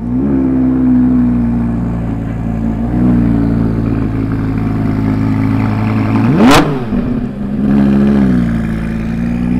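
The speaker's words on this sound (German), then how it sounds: "Da startet gerade schon einer. Wow, mega geiler Sound, V10." An Audi R8 V10 engine runs loud and close, a steady low idle rumble broken by a sharp rising rev around the middle that falls back before a second smaller blip.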